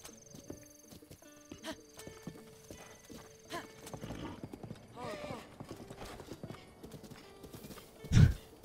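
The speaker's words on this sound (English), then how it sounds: "That looks like a professional trick horse." A horse in Breath of the Wild clip-clops along in rhythmic hoof steps, then lets out a loud whinny near the end, with game music and sound effects underneath.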